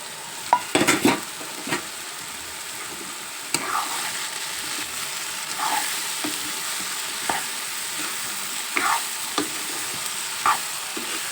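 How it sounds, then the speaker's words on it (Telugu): Ridge gourd pieces fry in a pan with a steady low sizzle, broken by repeated sharp scrapes and knocks of a spoon stirring against the pan. "ఇప్పుడు మనం బీరకాయ ముక్కలు వేసుకోవచ్చు"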